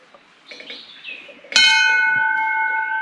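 A temple bell beneath a giant banyan tree in a village near Ajara, Kolhapur, rings out with one sharp, loud strike and then a long, bright, shimmering ring that fades slowly, following quiet ambient chatter.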